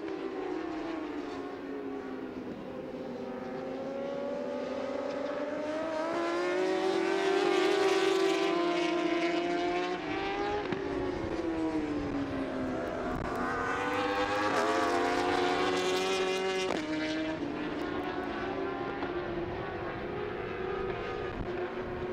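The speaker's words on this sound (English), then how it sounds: "They all have similar bikes. They all ride a BMW." BMW racing motorcycles scream past on a circuit during an Alpe Adria championship race at a German motorsport arena, with engine pitch climbing and falling as bikes approach and pass in two sweeping waves, mid-distance and steady in loudness.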